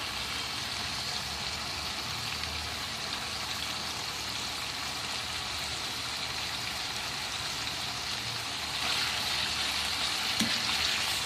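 Ginger garlic paste frying with chicken in a handi, a steady broadband sizzle running continuously and fairly close, brightening slightly near the end, with no voices over it.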